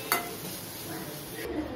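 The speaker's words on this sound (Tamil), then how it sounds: "லைட்டா வதக்கினா போதும், ரொம்ப வதக்கணும் தேவையில்ல." Kara paniyaram ingredients lightly sautéed in a pan, a brief soft sizzle with a single utensil scrape near the start.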